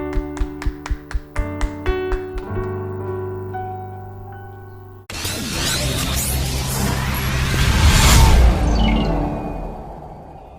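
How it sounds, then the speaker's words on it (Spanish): A church congregation applauds their pastor at a Sunday general meeting: after a stretch of soft piano, a loud wash of clapping and cheering swells up, blending with the music and peaking near the end. "un fuerte aplauso para nuestro pastor Rubén Uribe"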